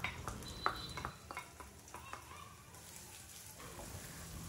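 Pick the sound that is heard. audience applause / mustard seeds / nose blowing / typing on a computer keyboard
mustard seeds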